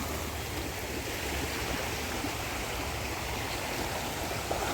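Ganges river water at Haridwar rushing in a steady, dense, continuous flow, fairly loud and close, with no voices.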